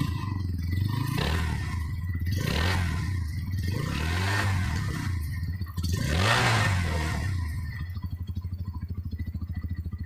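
A 2023 Bajaj Pulsar NS 125 motorcycle exhaust revs repeatedly, several rising blips from a close idle, ending in a steady putter.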